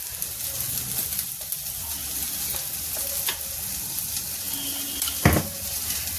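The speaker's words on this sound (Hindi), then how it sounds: "इसको हल्का सा फ्राई करना है। फ्राई हो रहा है" Potatoes and onions fry steadily in a pan for an aloo gobhi dish, a continuous close sizzle with occasional stirring clatter and one sharper scrape near the end, with no talking.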